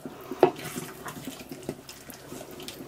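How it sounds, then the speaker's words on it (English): A small pour of water trickling into a pan of stewed sausage, a short, gentle splashing flow heard close by in a home kitchen. "I'll just put a touch of water in it."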